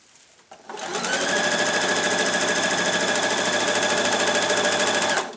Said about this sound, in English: And then sew straight over the top.